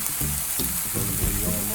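A hot pan of browning barbecue meat sizzles steadily and loudly as apple cider vinegar is poured in, a dense crackling hiss with low spatters, close up and continuous.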